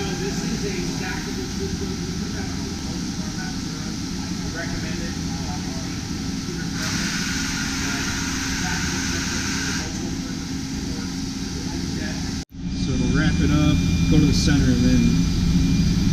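A Matsuura 5-axis CNC machine with a 36,000 RPM spindle runs steadily with a dense, continuous whir that stays loud throughout, breaking off abruptly near the end before a faint higher whine returns.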